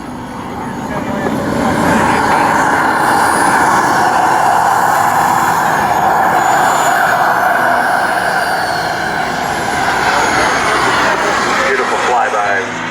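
A model Hawker Hunter jet powered by a JetCat RX 140 turbine makes a flyby with a roll at an Arizona model aviation show, its loud, steady turbine roar and whine swelling in the first seconds and then holding strong throughout.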